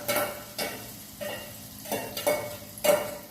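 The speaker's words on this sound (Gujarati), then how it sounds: "આ આપણે ઓરો વઘાર નાખીએ ડુંગળી ટમેટું તેલમાં સતરાઈ ગયા" Chopped onion and tomato sizzle in hot oil for a Gujarati oro tempering, heard as soft frying hiss punctuated by several brisk stirring scrapes, close and fairly quiet.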